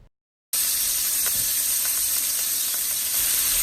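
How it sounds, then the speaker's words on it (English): Marinated fish frying in a pan of oil for a fish curry, a loud, steady sizzling hiss with faint crackles and pops that starts abruptly after a brief silence and continues unbroken. "We are ready to fry another batch of marinated fish."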